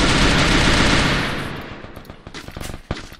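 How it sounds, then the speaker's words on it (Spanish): Rapid machine-gun fire and bursts of gunshots in a competitive shooter video game match, loud and dense at first, then fading into scattered, sharper single shots. "Kion está disparando"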